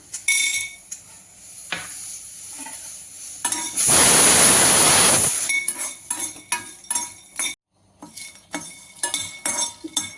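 Peanuts being dry-roasted in a pan for a rice-flake kozhukattai recipe, stirred with a metal spoon in a run of clinks and scrapes, close, with a loud sustained sizzle or rattle burst midway.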